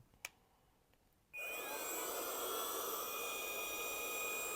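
Xiaomi Mi Vacuum Cleaner Mini handheld vacuum switching on after a quiet moment with a small click, then a loud, steady high-pitched whine and airflow hiss that continues evenly.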